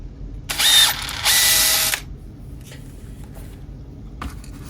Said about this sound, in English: if I were to now drill this in here